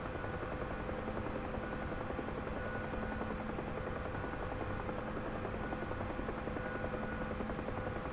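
A Huey gunship helicopter flies steadily at low level during training, its rotor drone and turbine whine constant, loud and close throughout with no break.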